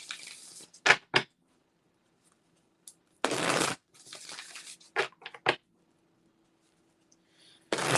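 A deck of advice cards being shuffled in several short, crisp bursts of riffling and rustling, separated by quiet pauses, close by with no talking.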